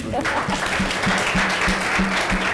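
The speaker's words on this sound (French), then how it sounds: "on applaudit fort" Steady clapping from an audience at a French-language student information event about studying in the United States, a dense wash of applause with a rhythmic thump underneath, continuing throughout without pause.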